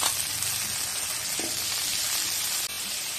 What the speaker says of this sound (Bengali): তার একটু তেল দিয়ে আমি আলুগুলো ভালো করে ভেজে নেব।